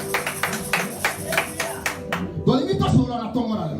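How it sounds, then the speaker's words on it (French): A church congregation at a Sunday service in Baltimore claps for the Lord in a fast, steady burst of applause, then a voice speaks loudly over the fading claps. "Acclamons pour le Seigneur."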